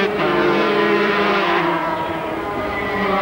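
250cc racing motorcycles passing on the Oran Park circuit in 1989, a loud, high-pitched engine whine that swells and then fades slightly as they go by, heard alone.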